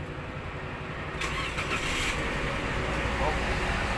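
A 2019 Toyota Avanza engine cranking and catching, settling into a steady idle rumble close by, with faint background voices.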